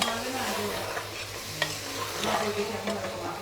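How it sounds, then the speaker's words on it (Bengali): Meat cooks in a home kitchen pan with spices, sizzling at a moderate level while a utensil stirs and scrapes repeatedly. "তো আজকে এই বাড়িতে রান্না হচ্ছে মাংস।"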